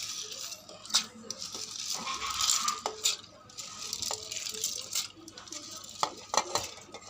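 Lentils go into a cooking pot amid scattered metallic clinks and rattles of utensils against the pot, irregular and fairly close, with a soft sizzling bed and a few sharper knocks.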